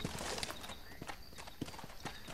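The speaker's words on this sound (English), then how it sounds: "I'll mount my horse as soon as it gets down here." Horse hooves clip-clop in a steady trotting rhythm in the western video game Red Dead Redemption, close and fairly loud over a soft game background.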